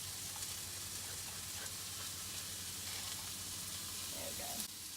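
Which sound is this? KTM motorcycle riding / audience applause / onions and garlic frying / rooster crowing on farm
onions and garlic frying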